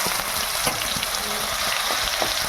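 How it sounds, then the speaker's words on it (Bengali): Garlic paste frying in hot oil with sugar that is turning red, a continuous dense sizzle with faint stirring scrapes, close and steady. "রসুনটা ভাজা হয়ে যাচ্ছে"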